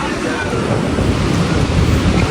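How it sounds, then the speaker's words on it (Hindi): A Himalayan mountain river near Panchtarni on the Amarnath Yatra trek, with a steady, loud, broadband rush of fast-flowing water close by and a little wind buffeting. "और ये पंचतारणी वाली नदी है, ये जो"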